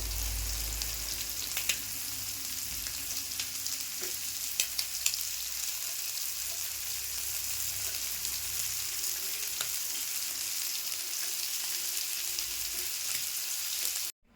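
Continuous loud sizzling and crackling of prawns frying on a hot griddle, with occasional light clinks, stopping abruptly at the end.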